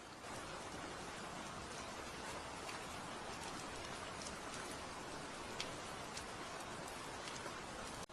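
Steady rain falls without pause, a dense, even hiss of drops with faint scattered ticks, continuous and moderately soft throughout.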